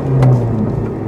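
A Honda Integra Type R DC5 engine revs briefly during an upshift, a short rising growl that dips as the gear changes, heard alone up close.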